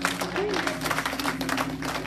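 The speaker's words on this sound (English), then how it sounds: "clap your hands if you love all that" A church congregation clapping along during a sermon, a rhythmic, busy patter of many hands mixed with singing or voices and a sustained musical tone beneath.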